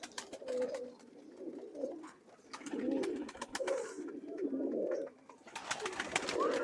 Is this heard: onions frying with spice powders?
no